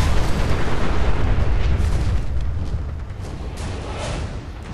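Mini nuke blasts from the Big Boy launcher in Fallout 4 roll out as a loud, sustained low rumble that slowly fades over several seconds.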